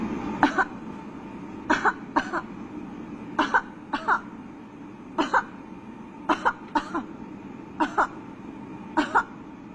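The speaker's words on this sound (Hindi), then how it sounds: "अभी जब मैं बोलूंगी तो आपको खांसी करनी है" A person coughs again and again in quick paired bursts at a steady rhythm, fairly close, in a quiet room.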